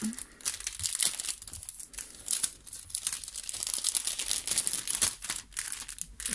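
Plastic wrapping around prize packages crinkles and crackles continuously up close, a busy stream of rustling with brief pauses between handlings and no clear talk.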